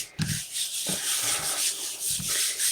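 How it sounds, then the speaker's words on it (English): Rubbing strokes clean leftover water-soluble medium off a gel press plate, producing a steady, close scrubbing hiss with several soft heavier pushes in irregular rhythm and no voices. "Give it a nice little rub,"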